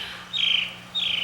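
A bird squawks in two shrill, raspy calls, the first longer, the second cutting in after a short gap, heard fairly close over a faint low hum within a musical excerpt.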